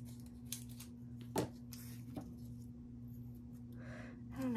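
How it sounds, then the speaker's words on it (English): Scissors cut around paper for a crafting project, faint intermittent snips over a steady electrical hum, close but quiet, with a small rustle at the end. "I'm just going to cut around it"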